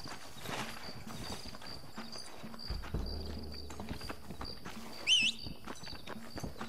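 Horse hooves clip-clop at a walking pace in the Western video game Red Dead Redemption, a quiet steady rhythm under faint ambient game sounds and a brief bird-like whistle.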